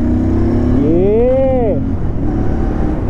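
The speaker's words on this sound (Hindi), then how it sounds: "अब गाइस थोड़ी सी बाइक भगा के देखते" A motorbike revs and accelerates close by, its engine tone sweeping up in pitch for about a second before dropping back, over steady road noise and a brief spoken word.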